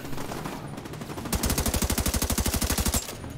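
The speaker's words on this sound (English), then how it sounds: "There are three people shooting at him, aren't they?" Rapid automatic gunfire in the video game The Division 2, a steady burst of closely spaced shots lasting over a second, loud and close, with quieter game ambience before it.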